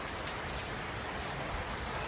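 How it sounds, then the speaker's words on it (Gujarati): Heavy monsoon rain pours down steadily, a dense, close, unbroken hiss of water with no voices. "અત્યારે પાછો આવ્યો એન્ડ બહુ જ વરસાદ ચાલુ છે"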